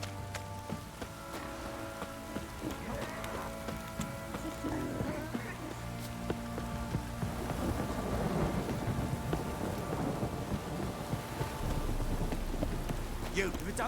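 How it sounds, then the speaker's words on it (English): Heavy rain pours down with rolling thunder in The Witcher 3, a steady, dense hiss of falling water with low rumbles. It stays fairly quiet and continuous, with occasional voices under the storm. "This downpour's a bastard, it is."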